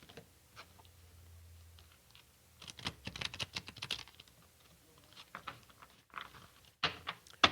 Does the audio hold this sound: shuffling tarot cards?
yes